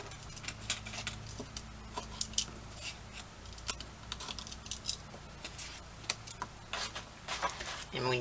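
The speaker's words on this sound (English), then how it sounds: "I'm going to cut all the way across from end to end so I can save that scrap" Paper being cut from end to end on a craft cutting board gives a string of soft, quiet snipping and crisp scraping ticks in an irregular rhythm.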